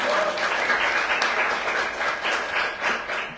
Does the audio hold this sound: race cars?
no